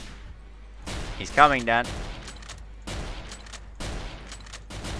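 Gunfire in the Garry's Mod horror game against a zombie and head crabs: several broadband sharp bursts spread through the clip, loud and close, with voices talking over them.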